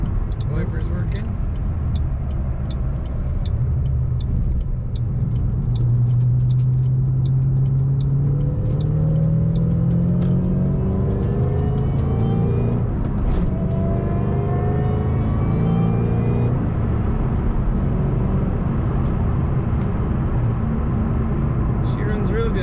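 A 2007 Ford Mustang Shelby GT500 engine runs steadily up close, its low rumble rising and falling in pitch as the car accelerates through the gears, with constant road and wind noise underneath.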